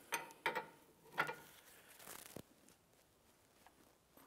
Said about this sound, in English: Now I want to go ahead and snug up this jam nut.